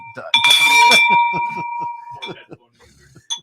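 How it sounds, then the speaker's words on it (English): A bell rung in a studio rings out with a bright, sustained metallic tone that slowly fades over about two seconds, while a person keeps talking over it. "Better go ring that bell."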